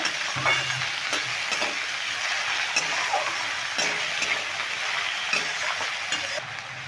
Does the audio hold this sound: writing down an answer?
no